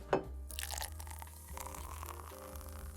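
A draft beer being poured in The Pub Life Simulator video game, a soft liquid trickle and splash after a brief clink, faint and continuous under a low background hum.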